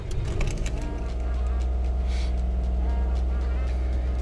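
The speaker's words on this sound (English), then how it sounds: "Let's just turn it on normally and see if it stays at a decent idle." A Suzuki Alto Lapin car engine fitted with a new tachometer runs at a steady, low idle after starting, a continuous close rumble with a faint intermittent clatter on top.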